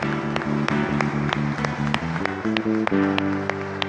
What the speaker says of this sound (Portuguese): Dá uma salva de palmas a Jesus, querido, amém.